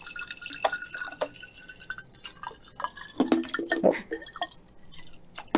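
Tap water is poured into a glass bottle, giving irregular splashing and dripping with small bright clinks, fairly close and steady, with a brief spoken exclamation.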